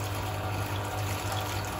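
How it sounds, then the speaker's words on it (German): Hot tub water is pumped through a copper coil in a wood-fired hot tub, making a steady rushing and gurgling flow under a low pump hum, continuous and fairly faint. "jetzt das Wasser durch die Kupferspirale treibt."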